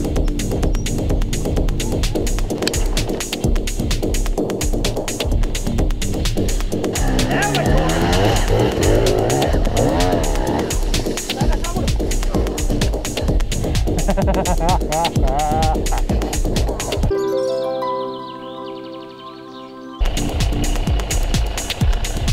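Beta RR300 two-stroke enduro motorcycle engine running while riding off-road, a loud continuous throbbing drone throughout that drops to a steadier lower hum briefly near the end before returning.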